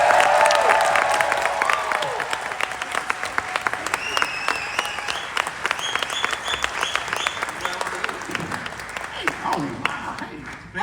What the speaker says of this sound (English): I would like a huge round of applause again for Director Kristian Mercado.